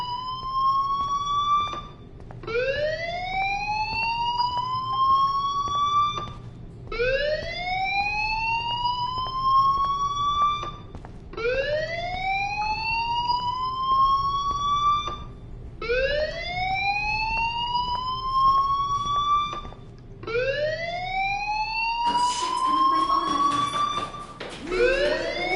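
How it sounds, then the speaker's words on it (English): A school fire alarm in the video game Life is Strange sounds as a loud rising electronic whoop, repeating about every four seconds for six cycles, then cutting to a harsher burst near the end. "do you hear that fire alarm? That means you should be outside."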